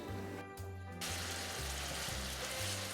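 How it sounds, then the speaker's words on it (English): One pound of pork sausage browning in a pan on a stovetop, a steady close sizzle of frying fat that runs the whole time over a low, pulsing hum, with no one talking. "First, I'm going to move over to the stovetop and brown this sausage."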